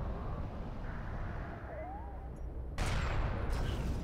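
Gunfire hits a turret in the video game Deserts of Kharak as a low, steady battle rumble that jumps to a louder, harsh broadband burst of fire near the end, over constant game ambience.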